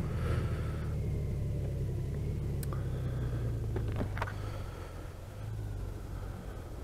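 A car engine rumbles low and steady while driving through traffic toward a car wash, a continuous near drone with a few faint higher clicks and tones over it.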